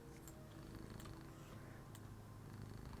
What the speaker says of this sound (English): She's purring, but she's also glaring at me.